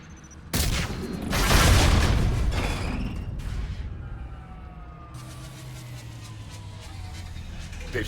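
Mass Effect 3 combat near a maintenance lock: a loud burst of gunfire and impacts erupts suddenly, then fades into a lingering mechanical hum and a fainter background drone.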